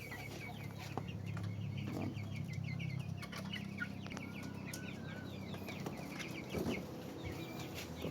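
Brahma and Silkie chickens cluck and chatter steadily in a backyard coop, with repeated soft calls from several birds close by and occasional wing flaps.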